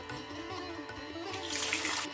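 Gobindobhog rice is washed in clean water in a bowl, with soft continuous sloshing and swishing that swells into a louder rush of running water near the end.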